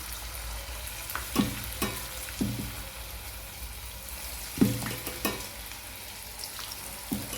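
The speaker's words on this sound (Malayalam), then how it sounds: "ബാക്കിയുള്ളതും കൂടെ നമുക്ക് ഇങ്ങനെ തന്നെ പൊരിച്ച് പോരുക" Beef and onion vada fritters deep fry in hot oil, with a constant bubbling sizzle and occasional sharp knocks and clatters from utensils, close and moderately loud.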